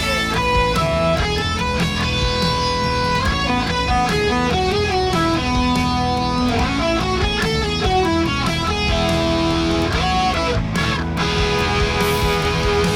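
A bright, amplified Mariposa electric guitar plays melodic lead lines over a steady, full backing that runs without a break.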